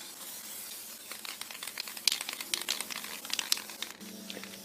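Hissing bursts of black spray paint from an aerosol can coating an old satellite dish being made into a solar cooker, with short sprays and faint rattles close by, quiet overall, no talking.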